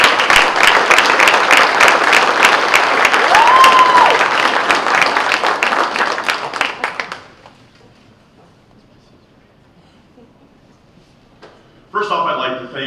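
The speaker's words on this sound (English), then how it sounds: "Please give a round of applause" Applause from an audience at a Hall of Fame award ceremony, dense clapping for about seven seconds that tapers off into near silence before a voice begins.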